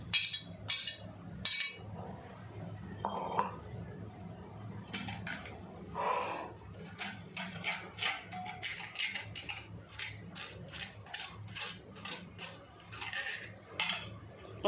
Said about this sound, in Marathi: आता मंडळी आपण हे गाळून घेऊया